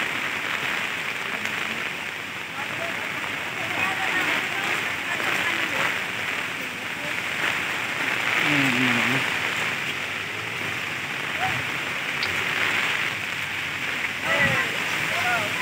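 Steady, dense heavy rain on a flooded road in Camarines Sur, Philippines, fills the whole stretch, a constant wash of falling water with voices talking over it now and then.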